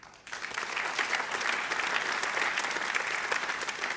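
Applause from a leadership forum audience swells in sharply after a brief quiet moment, then holds as a loud, sustained wash of clapping.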